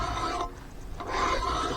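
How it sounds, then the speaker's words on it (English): A metal file rasps along the top of a chainsaw bar in a few steady back-and-forth strokes, close and fairly loud, with no talk. "you'll want to dress the top of this bar. A lot of times, if it ain't bad, I'll use a file."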